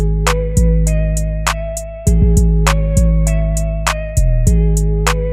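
A drum-kit clap sample snaps sharply on beats 2 and 4 in a trap beat, repeating over booming 808 bass and a melodic line, loud and without any voices.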